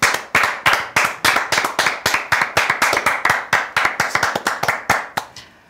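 Korean football talk-show hosts clap hands together in a fast, steady burst of roughly two dozen close, crisp claps that keep up a lively rhythm before stopping, with no voices.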